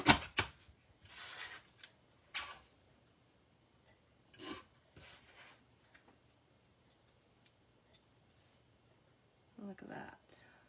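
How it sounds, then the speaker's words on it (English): Paper trimmed for a handmade birthday card: several short, dry rasping strokes come in separate bursts with quiet pauses between them, close and fairly soft. "So now let's just trim this."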